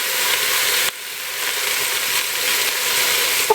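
Chopped vegetables for a sauerkraut soup fry in a pot with a steady, close sizzle and hiss, broken by a brief drop partway through and a small clink at the end.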